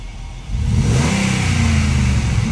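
A Dodge Dakota pickup's engine runs close by, a steady mid-pitched drone that swells and holds louder after the first half second, with no voices over it.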